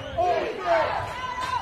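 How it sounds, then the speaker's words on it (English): Clinton fans cheering and yelling at a varsity football championship game, a distant crowd roar rising and falling in broad swells. "As again, the Clinton fans are into it"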